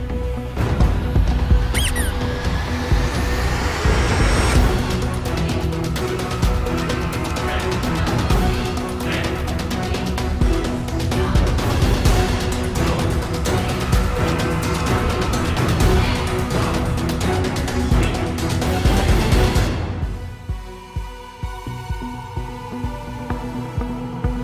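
Trailer for the video game Swim Sanity: dense, loud music layered with sound effects plays for about twenty seconds, then drops off into a quieter, sparser tail.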